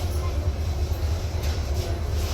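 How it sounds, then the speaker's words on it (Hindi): Intercity Express pulling into Ambala Cantt Junction station, a steady low rumble of rolling rail wagons heard from on board, continuous and moderately loud with faint voices underneath. "स्टॉप पहुंच चुकी है Ambala cantt junction railway station"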